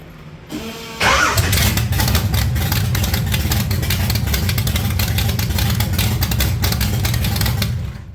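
Trans Am engine starting, a brief cranking whir, then the engine catches with a loud burst and settles into a steady, rough, close idle that runs to the end.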